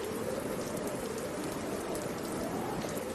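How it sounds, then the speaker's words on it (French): Steady rain falls during a windy autumn storm, a dense even hiss of drops on surfaces holding at a soft, constant level throughout with no voices. "Mais il y a du vent et de la pluie."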